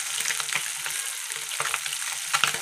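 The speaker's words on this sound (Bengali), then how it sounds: "মাছগুলো ভাজা হচ্ছে" Small mixed fish, mourala, puti and bata, frying in oil in a wok, giving a steady close hiss with crackling spatters and occasional stirring scrapes throughout.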